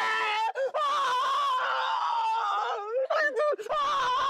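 A loud, drawn-out wail of pain from a nearby voice, wavering and breaking into strained cries.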